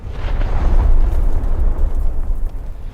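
A 3-ton satellite-guided bomb dropped from a Sukhoi strike aircraft detonates in War Thunder as one heavy, booming blast that rumbles deep and loud, then rolls off in a long fading roar.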